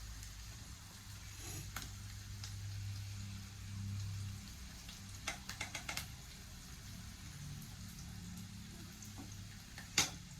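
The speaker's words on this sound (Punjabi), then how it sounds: "ਪਹਿਲਾਂ ਪਿਆਜ਼ ਥੋੜੇ ਭੁੰਨ ਲੈਂਦੇ ਲਾਲ" Onions fry in a pan with a soft, steady sizzle, broken by a few sharp clinks of a utensil against the pan and one louder knock near the end.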